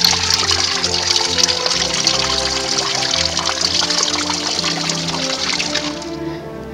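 Fresh mountain-filtered rainwater flows steadily in a loud, close, continuous rush and splash that holds evenly before easing slightly at the end.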